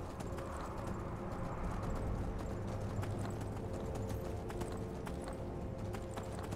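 Horse hooves clopping steadily while riding in Skyrim, a modded fantasy video game, a continuous rhythmic beat over a dense, busy background with no talking.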